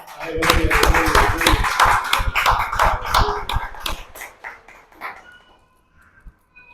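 A church congregation applauds together during a prayer meeting, a dense, loud burst of many hands clapping that fades out over the last two seconds.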